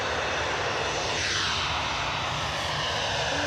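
An airliner at Edinburgh Airport gives off a loud, steady engine roar with a sweeping rise and fall in tone, heard close and continuous.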